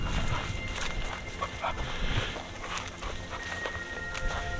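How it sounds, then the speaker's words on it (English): Dogs at an outdoor junkyard full of old classic cars, barking in short irregular bursts at moderate distance over steady background noise, with a few footsteps nearby. "You guys are good junkyard dogs."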